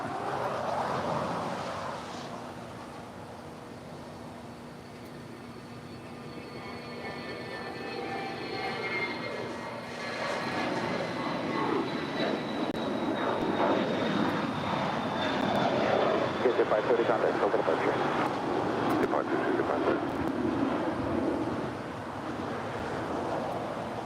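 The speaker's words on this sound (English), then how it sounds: "Korean Air Cargo 777 coming in from Lima, Peru, going really short." A Korean Air Cargo Boeing 777 on a short approach into LAX gives a rising, broadening jet engine roar with a descending whine, growing louder as it nears, while people talk nearby.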